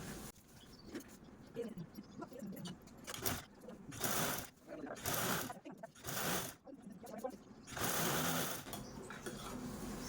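A sewing machine stitches fabric piping in short repeated bursts of whirring, each lasting under a second, separated by quiet pauses while the cloth is repositioned; close and moderately loud.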